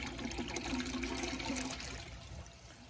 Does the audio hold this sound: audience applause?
no